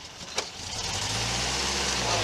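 A 1952 Land Rover engine cranks and catches, then settles into a low steady rumbling idle close by, with a brief click near the start and a sharp knock at the end; a voice talks briefly.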